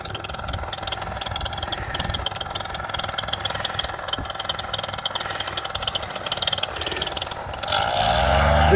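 A small paramotor engine drones steadily at idle, then revs up loudly for takeoff near the end, close by with no talking.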